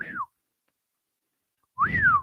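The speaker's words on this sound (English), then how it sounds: "I went to whistle, and it was a nothing whistle." Two thin, airy whistled notes through dry lips, each sliding up then down in pitch, separated by about a second and a half of silence; close and fairly soft.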